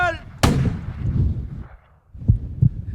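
A cannon fires with one sharp, loud boom that decays into a low rumble, followed by a couple of duller thumps.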